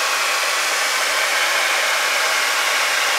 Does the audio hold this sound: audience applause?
no